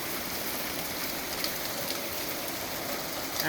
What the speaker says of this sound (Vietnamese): vợ chồng chúng tôi được thời tiết Oregon đón tiếp bằng một trận mưa đá